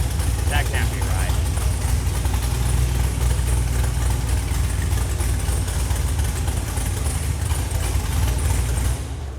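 A V8 LS-powered Mini Cooper drift car runs on a dyno with a loud, steady engine drone throughout, heavy low rumble and little variation, ending abruptly.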